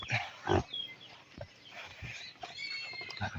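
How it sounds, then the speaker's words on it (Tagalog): A pig being fed grunts and snorts in a few short bursts, close and fairly faint, with soft rustling and farmyard background noise between them. "magpapakain muna ng baboy"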